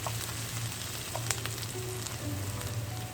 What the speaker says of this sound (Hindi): प्याज बहुत अच्छी तरह से सौते हो गई है।